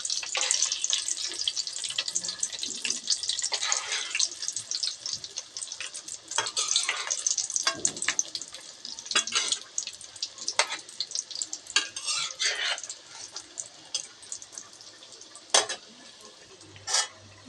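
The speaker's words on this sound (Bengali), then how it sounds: "তেলটাকে অল্প আছে গরম ভাজতে হবে, বড়াটাকে অল্প আছে ভাজতে হবে।" Loitta fish (Bombay duck) cutlets fry in shallow hot oil, giving a continuous bright sizzle with intermittent scraping stir sounds, close and fairly quiet, with no talking.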